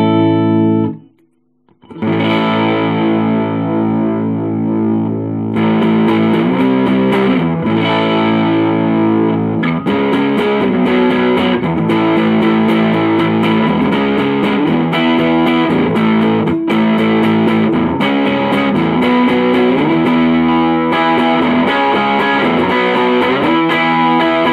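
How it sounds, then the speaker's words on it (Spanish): A Fender Hot Rod DeVille guitar amp on a modified distortion channel tuned for tighter, more defined gain, playing loud, continuous sustained chords and riffs with no talking. "el circuito del canal de distorsión ha sido modificado para que tenga una distorsión más apretada"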